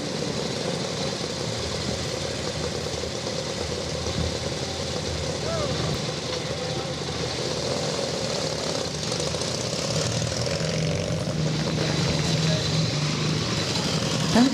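Vintage Velocette motorcycles pull away from the start of a vintage motorcycle club's Banbury Run, a steady mid-pitched engine drone holding for the whole stretch with crowd chatter beneath it.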